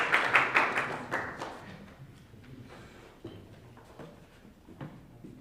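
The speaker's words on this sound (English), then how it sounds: "We can be able to clap for him as he comes" An audience claps for a presenter at a university event: a brisk burst of hand claps at the start that thins into scattered, fading claps and taps.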